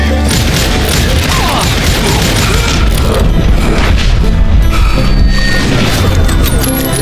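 A cannon fires in the Western shooter Call of Juarez: Gunslinger, a dense booming blast layered with crashing debris and gunfire, loud and sustained throughout.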